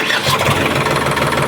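A tractor engine starts on a farm during maize work, cranking into a loud, close, steady mid-pitched running rumble, with no voices over it.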